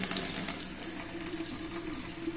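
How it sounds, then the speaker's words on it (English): Paint brushes rinsed and rotated under a running tap, giving a steady close splashing hiss of water into a sink with small spattering variations and no talk. "So I just hold them under the water, rotate them, just get any last bits out of there."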